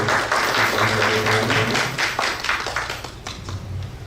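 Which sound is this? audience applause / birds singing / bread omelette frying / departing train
audience applause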